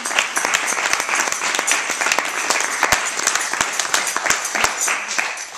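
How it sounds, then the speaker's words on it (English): An audience applauds at a book-related jazz aesthetic event, a continuous patter of many hands with sharper individual claps standing out, fairly close and steady for several seconds without talk. "So I just want to applaud the moment."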